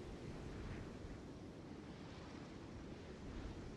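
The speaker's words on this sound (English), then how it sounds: "The sound of the waves in this familiar port." Ocean waves wash against a harbor in the Liyue port of the video game Genshin Impact, a steady, even roar of surf with no pauses and no voices.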